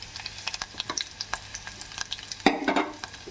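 Curry leaves and turmeric frying in a pan while being stirred, giving a soft, steady sizzle with light scraping strokes and a louder burst of crackling near the end.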